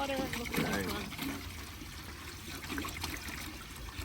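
Water pours and splashes into a large soup pot at an outdoor campsite, a steady rushing stream with voices talking over it.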